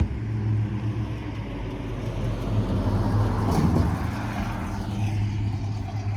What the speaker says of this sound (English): look at this car coming down